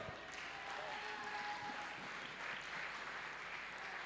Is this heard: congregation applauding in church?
yes